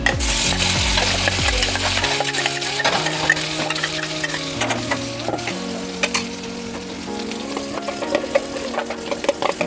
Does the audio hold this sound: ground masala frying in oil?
yes